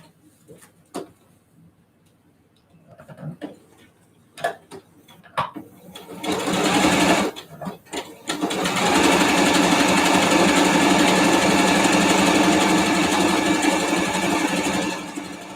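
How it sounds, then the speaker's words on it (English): Sewing machine stitching the side seams of a T-shirt bodysuit, a few short bursts and handling clicks at first, then a loud, steady, continuous whir of stitching running close up to the end. "Then I'm going to sew the side seams."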